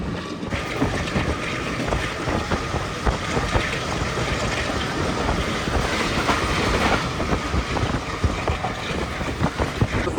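The Tezgam passenger train rolls past Bin Qasim railway station on the Nawabshah to Karachi route, a loud continuous rumble with rhythmic clickety-clack of wheels on rail joints, heard up close from aboard.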